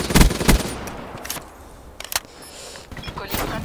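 Gunfire in a Black Ops 3 multiplayer match: a few sharp, close bursts and single shots crack out at irregular moments, with quieter game ambience between them.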